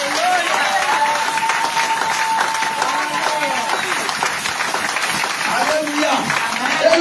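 Church congregation applauding and cheering for God during a sermon, steady dense clapping with shouts and voices sustained throughout, loud and close.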